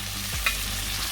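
Dry fish curry being stirred in a frying pan, a steady hiss of frying with one brief scrape of the utensil partway through, close and alone.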